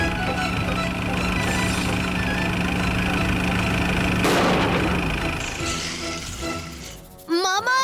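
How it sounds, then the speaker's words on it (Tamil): Cartoon vehicle engine running in a Tamil-dubbed Chacha Bhatija animated chase, a steady droning rumble under music and sound effects that ends in a sharp crash and whooshing swoops. "ஏன் வண்டி ஓட்டிக்கிட்டு இருக்க?"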